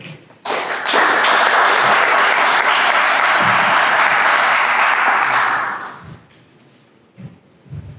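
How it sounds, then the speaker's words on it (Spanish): An audience breaks into loud, sustained applause after a presentation, then the clapping fades out and a few scattered taps and thumps follow. "Un fuerte aplauso, por favor."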